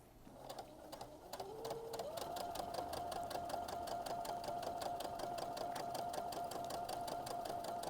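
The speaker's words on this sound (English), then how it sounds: "now I'm going to sew around the wattle." Sewing machine stitching steadily around a fabric turkey's wattle for a Thanksgiving centerpiece, starting after a short pause and then running in a fast, even rhythm, close and continuous.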